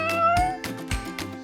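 A cat meows several times in short, bright calls with gaps between them, close and clear, sounding like it comes from a children's farm animal puzzle game.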